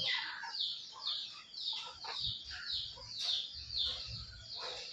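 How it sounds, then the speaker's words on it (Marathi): Country chickens in a poultry shed give repeated short, bright clucks and calls, close by and fairly quiet, arriving in irregular bursts with soft rustling beneath. "हा बघा आपल्या कोंबड्या इथे बसतात रात्रीच्या"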